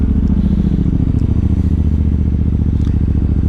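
A 2013 Triumph Thunderbird with ABS and fuel injection idles steadily up close, its deep, even engine pulse running without a break and with a faint mechanical clatter over the top.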